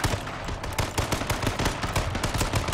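Rapid, loud gunfire in a shooter video game: dense bursts of close shots crackle almost nonstop for a few seconds, with no voices over them.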